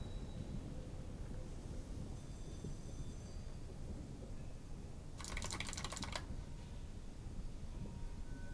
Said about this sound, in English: this will make my typing incredibly fucking loud